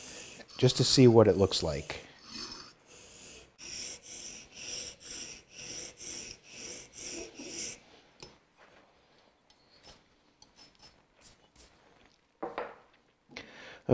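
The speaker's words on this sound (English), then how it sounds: "I'm going to make a few passes on 400 grit" A hand plane blade is honed on a 400 grit stone at 30 degrees, giving about a dozen steady rhythmic rasping strokes, loud and close at first, followed by quieter scattered scrapes and taps, with a brief spoken comment in between.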